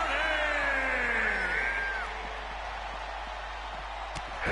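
Arena crowd in the WWE 2K22 wrestling video game during a televised RAW-style match, a broad cheering roar with rising whoops that swells early and then settles into a steadier murmur.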